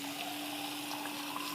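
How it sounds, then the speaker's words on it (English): Water running steadily into a can while making Tuscan tomato soup, a continuous close, hissing pour with a faint tonal ring from the container and no speech. "fill your can up with some water"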